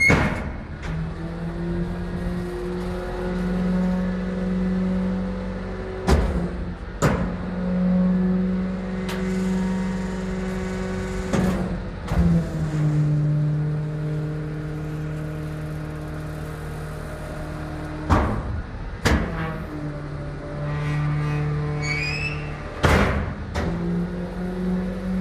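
Isuzu waste compactor truck with a 10-cubic-metre body, its engine running and revving up. A steady engine drone carries through, with several sharp clanks and knocks along the way.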